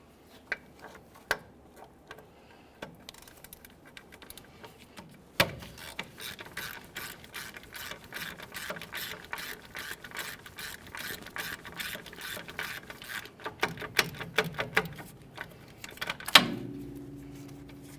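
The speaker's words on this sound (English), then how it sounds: "Let's remove our two caliper bracket bolts." Ratchet removing the 15mm caliper bracket bolts on a 1998-2011 Ford Ranger front brake job, a few isolated clicks then long stretches of rapid steady ratcheting, close and moderately loud with no talking.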